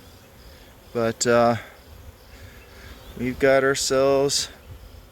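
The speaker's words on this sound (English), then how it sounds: "a bunch of bees that don't look like they are ready to go anywhere" Honeybees from an afterswarm buzzing around a hive as frames are added, a steady low insect hum running under a man's speech.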